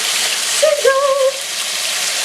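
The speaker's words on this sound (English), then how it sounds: "Sizzle!" A steady hiss of chicken sizzling in a hot pan, with a few brief squeaky tones rising over the crackle.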